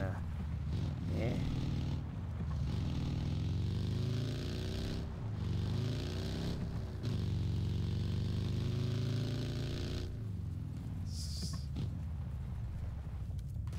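Vehicle engine in PUBG on Xbox One, a steady droning hum with shifting pitch as the car is driven, running continuously under someone talking.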